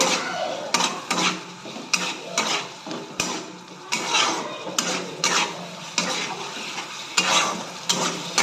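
Paneer chilli with homemade red chilli sauce cooking in a pan, a spoon repeatedly stirring and scraping against metal in rhythmic bursts over a low sizzle, close by and without speech.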